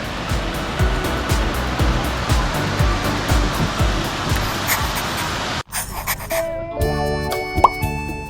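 Tat Kuang Si waterfall in Luang Prabang, Laos, cascading over limestone into a blue pool: a steady, loud broadband rush of falling water for most of the clip, then cutting abruptly to a quieter scene with music-like tones.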